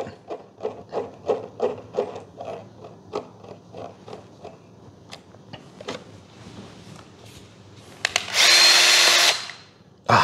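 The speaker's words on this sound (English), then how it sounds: "Remember how I said I was gonna pre-drill these?" A power drill drives screws into pre-drilled wood in a model aircraft build, first as a run of short rhythmic bursts and then as one loud sustained whir near the end.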